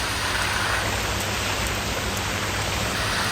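Steady rain falls outside, a continuous even hiss of drops on surfaces that holds the whole time with no voices over it.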